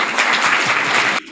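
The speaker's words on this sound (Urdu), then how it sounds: "آپ سب کے لیے بھرپور تالیاں" An audience at a gender equality seminar breaks into dense, lively clapping that stops abruptly after about a second.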